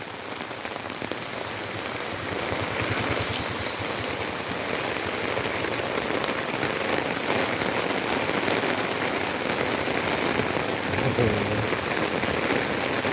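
Persistent rain pours down amid floodwater in Narathiwat, Thailand, a thick, unbroken patter on surfaces that swells slightly after the first seconds and stays loud and close.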